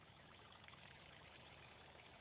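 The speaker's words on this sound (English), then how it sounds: "I take a refreshing shower." Shower water running, a steady, even hiss of spray falling continuously, faint and unbroken.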